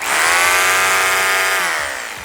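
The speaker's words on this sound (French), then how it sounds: "on a une perceuse de 780 watts" A 780-watt electric drill runs freely with no load, powered by a portable survival battery, giving a loud, steady motor whine that holds for a couple of seconds before easing slightly.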